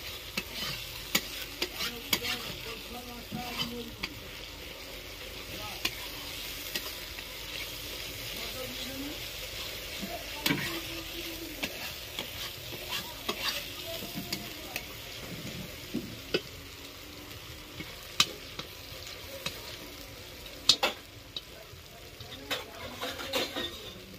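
Ginger-garlic paste frying in a pan with steady sizzling and frequent scraping stirs and clinks of a utensil against the pot, close up; a voice is faintly present at times.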